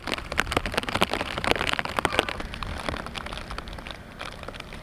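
Heavy monsoon rain pours down steadily over the Western Ghats near Belagavi, close and dense with crackling drops spattering across surfaces throughout, no voices present.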